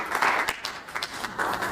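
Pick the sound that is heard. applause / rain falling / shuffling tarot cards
applause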